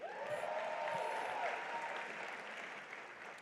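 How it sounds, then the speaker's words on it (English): Gala audience at a college foundation event applauding in honor of Rodney Dangerfield, a sustained crowd clapping that holds steady and tapers slightly, with a faint tonal sweep early on. "Let's give a nice round of applause to Rodney Dangerfield"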